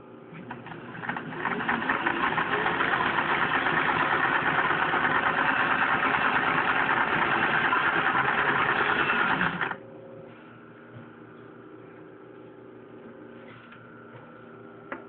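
Singer Rocketeer sewing machine stitching a wide zigzag, a close, busy whirring hum with rapid needle clatter for about eight seconds, then dropping to a quieter motor drone after it stops sewing.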